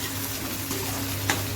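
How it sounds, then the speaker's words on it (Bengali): Mung dal toasts in a pan with a dense, even sizzle close by, and a brief scrape of a spoon stirring near the end. "মুগ ডাল একটু ভাজা ভাজা হয়ে গেছে।"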